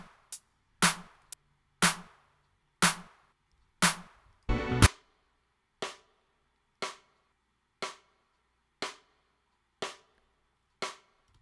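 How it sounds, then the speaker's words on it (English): Sharp rim shots in a drum mix, a steady series of about a dozen crisp cracks roughly one per second, the first few louder with a low thump under them, then lighter and evenly spaced, no voices. "there's also a rim shot here"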